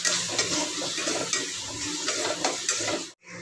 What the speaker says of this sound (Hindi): अच्छे से ब्राउन करने तक हम इसको भूनते रहेंगे